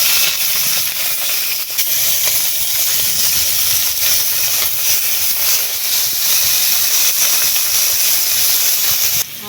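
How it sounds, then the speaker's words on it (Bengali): Thin slices of fresh river fish (ruli) frying in hot oil, a loud, steady hiss and crackle running unbroken throughout, close by with no talking. "মাছগুলো ওইদিকে ভাজা হতে থাক"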